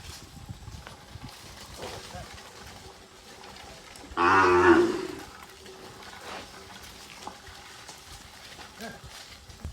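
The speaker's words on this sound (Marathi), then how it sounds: "चला आता गायींना चरायला नेण्याची वेळ झाली आहे सर्व गायी आता बाहेर काढल्या जात आहेत" A single loud, drawn-out moo rises mid-clip from cattle at a charitable cow shelter in Kankavli housing 65 cows, as the herd is let out to graze; the rest is quiet outdoor background.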